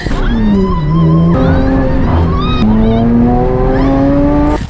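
A semi-race car with a loud exhaust accelerating hard, the engine note climbing through the gears with sharp shifts, very loud and close throughout.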